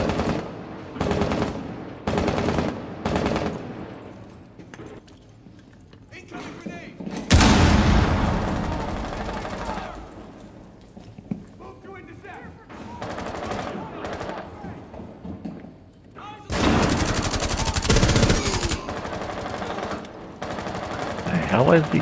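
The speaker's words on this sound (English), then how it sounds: "Where's he shooting me from?" Gunfire in Rainbow Six Siege comes in loud bursts: rapid short volleys early on, then heavy sustained automatic fire and booming blasts with quieter gaps between.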